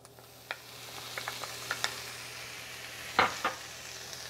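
Tomatoes seasoned with salt and pepper fry in a pan for Mexican pambazos, giving a low steady sizzle broken by scattered scraping clicks of stirring, close and fairly quiet.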